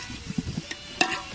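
Ginger garlic paste sautés in a pan for chicken biryani, a soft, low sizzle with a few light stirring knocks, close but quiet and brief.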